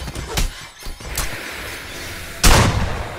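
A few loud, sharp bangs from a gun in Friday the 13th: The Game, two quick cracks early followed by a heavier blast near the end.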